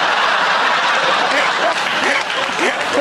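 A studio audience at a comedy panel show claps steadily and densely throughout, with some laughter mixed into the sustained applause.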